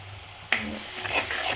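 Masala dropped into hot oil with browned onions for a Kerala egg roast, giving a sudden sizzling burst that settles into a steady fry with soft stirring scrapes, close and alone.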